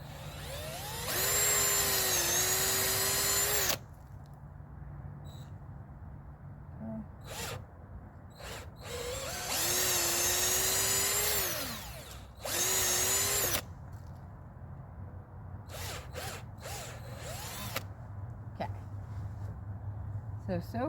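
A cordless power drill bores tap holes into a maple tree outdoors, two loud whirring bursts of a few seconds each with shorter spurts between, while someone talks quietly in between.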